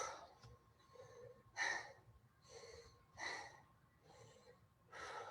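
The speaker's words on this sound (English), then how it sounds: "Hopefully you're all breathing as hard as I am." Heavy rhythmic breathing follows a virtual fight practice round, with about seven loud close inhales and exhales spaced roughly every second, some with a gasping edge.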